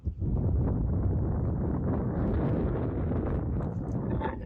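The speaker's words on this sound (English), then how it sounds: "It is a windy mother trucker." Strong outdoor wind on a truck camping trip by the Colorado River buffets the microphone in a dense, continuous low roar that holds steady for a few seconds.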